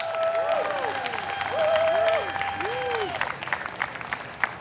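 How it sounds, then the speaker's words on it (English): Audience applause for a jazz band at the Brass City Jazz Fest, steady clapping and crowd noise with sustained horn-like tones and sliding musical notes ringing over it throughout. "Give him another big round of applause."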